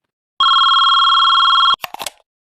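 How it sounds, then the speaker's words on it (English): A telephone bell rings once, a loud, steady electric trill lasting over a second, followed by a brief clatter of handling noise. "Ringing the police department."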